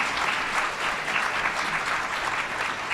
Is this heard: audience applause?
yes